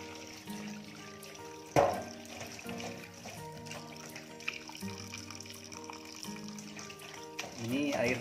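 Tap water runs steadily onto aloe vera leaves being rinsed after soaking in lime and salt, a continuous close splashing trickle, while a person talks over it.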